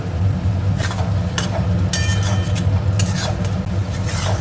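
Spice paste frying and being stirred in a pan, a steady close sizzle with intermittent scraping stir strokes and a low hum underneath, with no talking.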